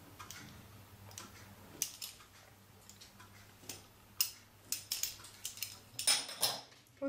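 A knife cuts apple strudel dough into strips on parchment, making light, close clicks and taps that grow more frequent toward the end against a quiet background, with no talking.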